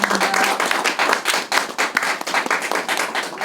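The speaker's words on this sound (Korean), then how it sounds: "여러분들 다시 한 번 축하의 박수 주시면 감사합니다" At the 2020 Go awards ceremony, the hall audience claps in congratulation, a fairly close, uneven patter of individual hand claps that swells and thins in waves.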